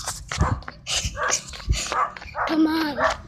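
A white dog barks several times in short, loud yips and barks outdoors on a street at night, mixed with excited human voices calling out close by.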